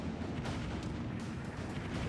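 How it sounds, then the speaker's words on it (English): Naval shells bursting in World of Warships, a dense, continuous rumble of booming impacts with no clear gaps, steady and loud throughout, sharper cracks near the half-second and just past one second. "Getting bombed quite a bit."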